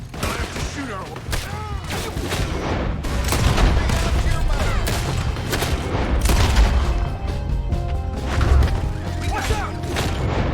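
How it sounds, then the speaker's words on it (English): A Red Dead Redemption 2 shootout at Beaver Hollow fills the air with dense, overlapping gunfire and booming impacts, loud and continuous, with shouted voices mixed in. "I'll have to shoot our way."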